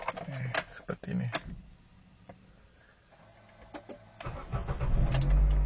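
A 2012 Nissan Grand Livina HWS 1.8 cranks and starts close by, with a rising engine rumble that settles into a steady idle after some clicks and someone speaking.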